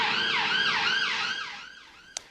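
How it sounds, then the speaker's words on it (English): A wailing emergency siren sweeps up and down repeatedly, fading as it moves away, ending with a brief sharp click. "just as the sirens are blasting there"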